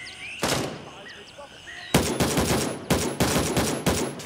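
Gunfire in Gray Zone Warfare, a single sharp shot followed after a pause by a rapid string of loud cracking bursts, fairly close.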